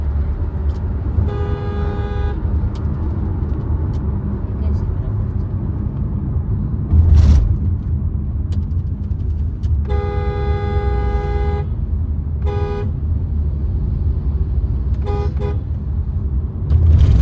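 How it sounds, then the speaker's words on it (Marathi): Steady rumble of late-night road traffic around 3 a.m. in Shikrapur, Maharashtra, with several car horn toots rising above it, a couple of them long sustained honks and others short bursts. "रात्रीचं पण ट्रॅफिक असतं."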